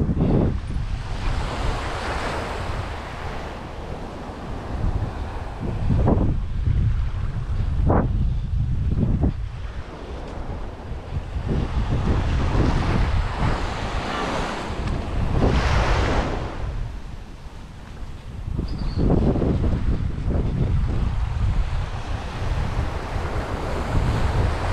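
Ocean waves surge and wash in at a beach house, with heavy wind buffeting the microphone in rising and falling gusts throughout.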